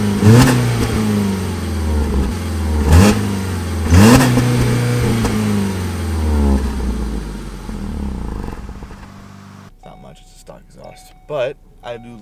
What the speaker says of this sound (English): Let's go ahead and give this thing a little start up.